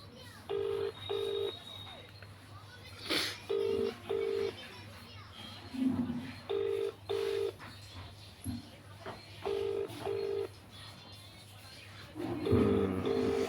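A phone line rings out in repeated double beeps, evenly spaced, with faint children's voices and background noise between rings.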